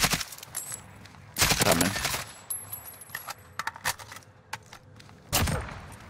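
Bursts of AK rifle fire from the video game Call of Duty Warzone, a few rapid volleys at moderate level with faint game clutter between them, and one brief spoken word from a player.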